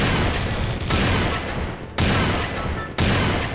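Heavy gunfire from a Garry's Mod FNAF sandbox match, loud bursts of shots with three sharp booming onsets roughly a second apart over a dense, continuous crackle of fire.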